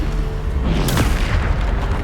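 One Bombarda spell detonates in the Hogwarts Legacy game, a heavy booming burst near the middle that rises out of a dense, constant low rumble of battle noise.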